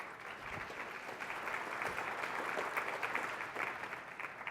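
A keynote audience at the EMPOWER2017 Quick Base product event fills the room with sustained applause that swells slightly and then eases off.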